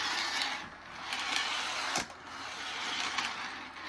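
A Lionel O gauge Polar Express model train runs slowly along its track, giving a steady mechanical whir with light clicks and one sharp knock about halfway through, close and fairly quiet.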